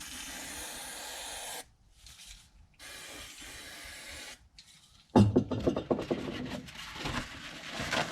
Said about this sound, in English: I'm first going to clean all these surfaces with some brake cleaner, so no dirt gets trapped in there.